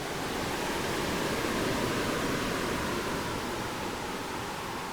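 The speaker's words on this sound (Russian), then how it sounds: "Начиная от шума листьев на ветру," Synthesized sound of wind through leaves: a dense, steady rustling hiss, continuous and even throughout with no pauses.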